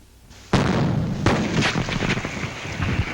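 Gunpowder ignites in a test engine cylinder: a sharp loud blast, then a second heavy burst about a second later, followed by a rumbling, crackling roar that carries on to the end.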